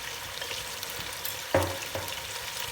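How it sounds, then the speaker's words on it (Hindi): Spices being fried for chicken nihari, a soft continuous sizzle close up with a few clinks and scrapes of a stirring spoon, no talking. "तकरीबन 2 मिनट हो गए हैं भुनाई करते हुए"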